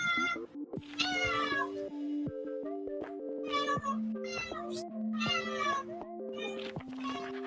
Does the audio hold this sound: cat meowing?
yes